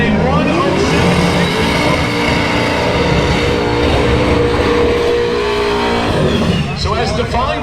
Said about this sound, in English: So as Stefan Gustafson does the burnout